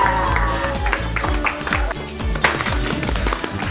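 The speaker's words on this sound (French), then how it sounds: "On applaudit." Guests at a birthday celebration clap in a quick, rhythmic burst over music, the applause close and fairly loud throughout.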